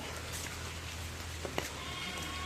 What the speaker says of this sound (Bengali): আজকে ফিরে আবার বৃষ্টি, সকালবেলা বৃষ্টি ছিল না, এখন থেকে বৃষ্টি শুরু।